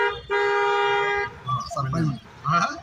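A learner car's horn at a driving school gives one long steady toot, followed by people talking close by.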